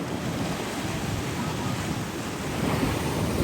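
Sea waves surge at Gomti Ghat in Dwarka, a steady, dense roar of surf mixed with wind buffeting the microphone, continuous and fairly loud throughout with no voices.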